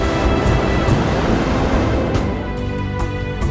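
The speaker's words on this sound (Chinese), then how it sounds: "大海的声音，你听啊，你听着了吗？" Sea waves wash in a constant broad roar of surf, loud and close throughout, with a few brief splashy surges breaking through the steady noise.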